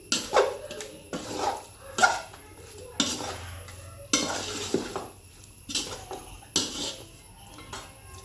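Chicken being stirred and mixed in a frying pan, with repeated scraping clatters of a utensil against the metal roughly every second over a light sizzle.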